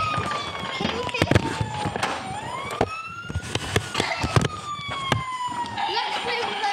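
A toy ambulance siren wailing, rising and falling, with scattered clacks and bumps of toy trucks at play close by, and a voice talking over it.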